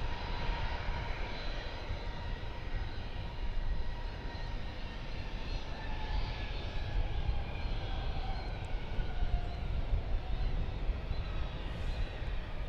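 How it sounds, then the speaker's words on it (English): An American Airlines Airbus A321 bound for Vancouver hums at DFW Airport, its jet engines a continuous broad roar with a faint whine, steady and moderately distant throughout. "That is American Airlines Flight 1415, an Airbus A321."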